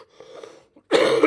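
One sharp, loud, close cough from a man bursts out after a stretch of quiet, soft murmuring.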